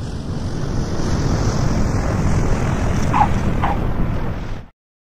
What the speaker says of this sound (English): Space shuttle.